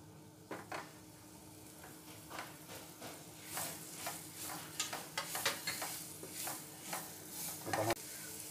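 Capsicum sizzling and frying in a pan for paneer masala, a steady hiss broken by repeated spoon stirs and scrapes against the pan, close and moderately loud with no talking.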